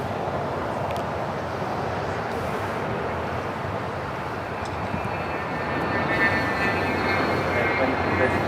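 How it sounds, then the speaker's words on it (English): NetJets Cessna 680A Citation Latitude business jet at Los Angeles airport, a steady broad engine roar that grows slightly louder toward the end. "NetJets heading to Cabo San Lucas. Cessna 680A Citation Latitude."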